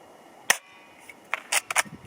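A Steyr TMP Double Eagle airsoft gun fires several short, sharp snapping shots outdoors: one crisp shot, then an irregular cluster of quick pops near the end.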